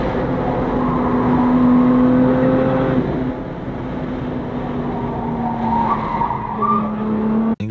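A Lotus Emira roars around a race track, the engine note holding a steady pitch before an upshift drops it, with tire squeal through the corners, loud and close.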